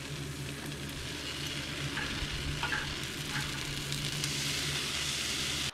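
A clump of butter melts and sizzles on a hot Blackstone griddle, giving a steady, close crackling hiss that continues unbroken throughout.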